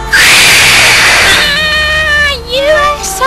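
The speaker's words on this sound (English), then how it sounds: "Hey, it's Daitokuji's gay kitten Pharaoh." An animated kitten in an anime scene lets out a loud, drawn-out meow that wavers and rises, then trails into shorter cries, sounding close and alone.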